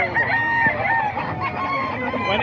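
A gamecock from an SBR bloodline crows once, a drawn-out, wavering call at moderate distance, with a few clucks and faint background voices around it.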